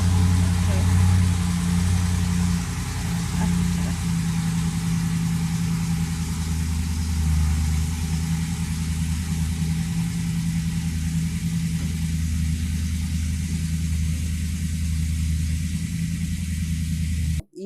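A BMW M3 convertible idles with a steady low engine rumble that holds even throughout, while people talk over it nearby.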